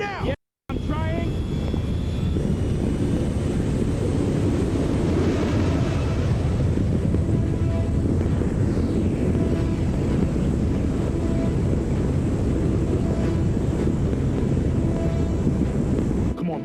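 Heavy, constant roar of wind rushing over an airplane in flight during a film stunt scene, loud and steady throughout with dense low rumble and a brief dropout near the start.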